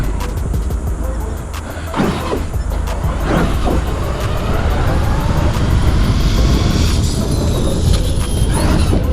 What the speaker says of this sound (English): That's full throttle without tipping it over.